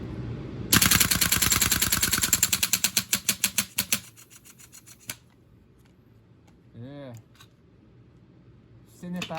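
An automatic gas blowback airsoft rifle fires a rapid, loud burst of shots that slows and weakens after a few seconds as the gas fails to empty the magazine, followed by quieter clicks and handling noises.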